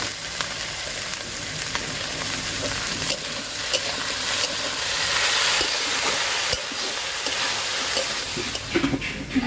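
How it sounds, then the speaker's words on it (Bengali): Vegetables seasoned with salt, turmeric and broken green chillies fry in a covered pan, giving a steady broadband sizzle and hiss with faint scattered crackles and occasional soft clinks, continuous and moderately close, with no talking. "ঢাকা দিয়ে সবজিটা ভাজা হতে থাক"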